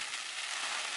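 Water from a garden hose sprays steadily onto a Yellowstone Matterhorn tent, making a dense, even hiss like a heavy shower drumming on the fabric, close and constant throughout.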